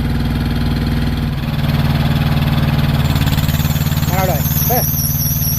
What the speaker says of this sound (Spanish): cuando el compresor entra, que ese abanico prende, entonces él suena.